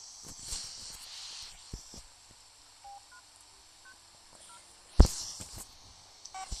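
A telephone keypad sounds a run of short, faint dial beeps spaced apart over low hiss, then a sudden loud thump and rustle follow near the end.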